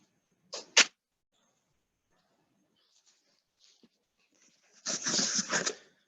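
Dogs at home make short sniffing, whimpering and panting bursts, one brief pair early and a longer noisy flurry near the end, close but fairly quiet with silence between.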